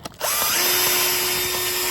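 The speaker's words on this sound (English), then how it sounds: "an electric drill with a cup wire brush" An electric drill spinning a cup wire brush against concrete starts abruptly and runs at a steady high whine, with gritty scraping as the bristles work the surface, loud and close.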